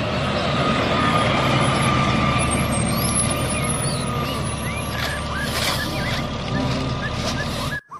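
A garbage truck with a loud, steady engine rumble close by and faint beeps and hissing above it, ending in an abrupt cutoff.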